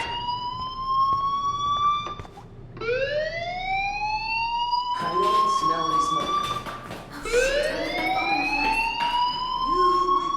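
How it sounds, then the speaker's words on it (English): A fire alarm wails in the video game Life Is Strange, repeated rising siren sweeps cycling several times, loud and close, with some speech faintly under it. "do you hear that fire alarm? That means you should be outside."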